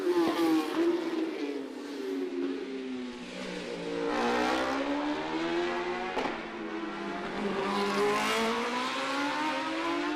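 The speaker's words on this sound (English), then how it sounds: "Rob Hodson on that Honda, the first of the non-BMWs out on track at the moment" Racing motorcycles, including a Honda, at the Macau Motorcycle Grand Prix street circuit, their engines whining and rising in pitch as they rev and pass, loud and continuous with the pitch swelling and falling.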